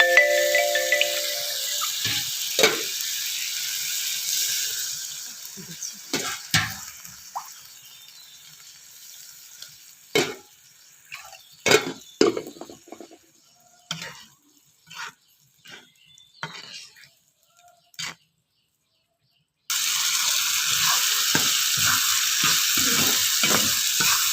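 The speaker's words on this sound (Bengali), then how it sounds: "কিছুক্ষণ কষিয়ে নেব এখন" Chepa shutki, a dried fish, is sautéed in a pan with salt: a hissing sizzle with scattered sharp spatula scrapes and knocks, fading into a quiet gap before a loud steady sizzle returns.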